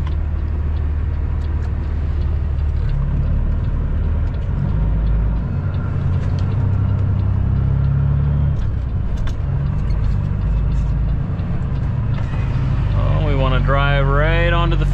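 A truck drives onto a farm field, with a steady loud engine rumble and road noise throughout, and people talking over it near the end.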